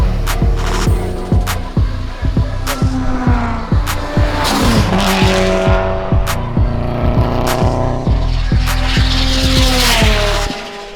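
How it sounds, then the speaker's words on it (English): Tuned Subaru race cars, including an 04 STI, run hard at a Flat4 Throwdown time attack event, engines roaring and shifting with repeated rising revs, tire squeal and fast passes, loud and close without speech. "We've got some of the fastest Subarus out on track today."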